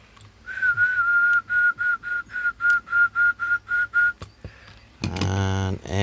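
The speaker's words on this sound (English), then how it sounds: "So it whistles up to about 100 watts there." A radio transmitter on lower sideband emits a steady whistle tone, keyed in about a dozen short, evenly spaced bursts, followed by a loud, harsher tone toward the end.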